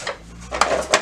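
A workbench drawer full of screwdrivers sliding open in a garage workshop, a short wooden rattle followed by two sharp clinks of metal tools shifting inside.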